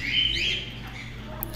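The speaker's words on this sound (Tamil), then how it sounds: "ஸோ எக்கச்சக்கமான பேர்ட்ஸ் வந்து உங்களோட தோளில் கையில் எல்லாமே வந்து உட்காரும்." Birds at Peeku Park bird park in Yercaud give a burst of shrill squawks and chirps at the start, then fainter calls continue over a steady low background hum.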